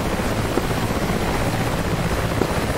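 Helicopter in the flight simulator game DCS, a steady dense rotor and engine drone, loud and unbroken throughout with no talking.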